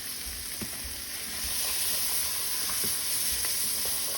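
Onions with cumin, chili powder and cayenne frying in a pot for tortilla soup, a steady close sizzle with occasional soft stirring taps.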